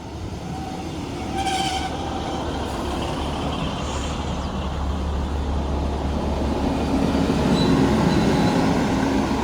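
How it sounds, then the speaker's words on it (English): Northern diesel passenger service rolling into a station platform, a steady low rumble that grows louder as it draws closer, with faint squeals and clanks over the top and no talk. "Arriving now is the 11:16 Northern service from Blackburn to Rochdale."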